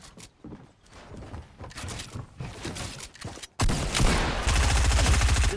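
Rapid bursts of Fortnite gunfire in an arena solos match, sharp and loud, with scattered shots giving way to a dense, rattling volley near the end, alongside footsteps and building sounds.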